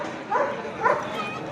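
Two short yips or barks from a puppy at a dog show in Parbhani, with a Labrador mentioned, heard in quick succession amid crowd chatter and nearby talking.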